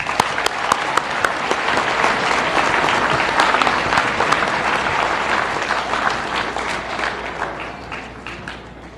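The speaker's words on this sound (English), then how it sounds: "you guys need to applaud yourselves" Sustained audience applause at a 2015 state awards ceremony, dense and steady clapping from a large crowd filling the room for about nine seconds, with a few sharper claps standing out near the start.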